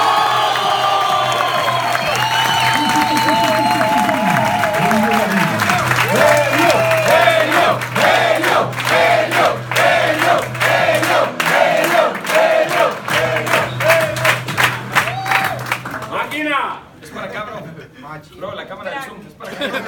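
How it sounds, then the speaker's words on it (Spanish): An audience in Medellín breaks into loud applause and cheering, with shouts, laughter and lively voices mixed into the clapping, which fades out toward the end while people keep talking. "¡Un fuerte aplauso!"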